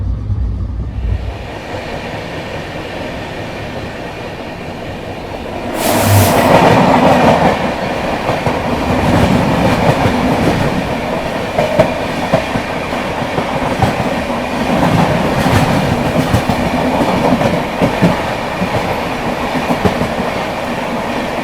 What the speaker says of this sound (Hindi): ये है हमारी नॉर्थ ईस्ट एक्सप्रेस।